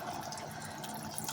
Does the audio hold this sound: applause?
no